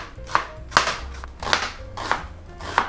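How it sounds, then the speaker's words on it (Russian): Five sharp knife strikes slicing an onion into strips on a cutting board, evenly spaced about every half second, close and crisp with a faint background hum. "Разрежем пополам и нарежем соломкой."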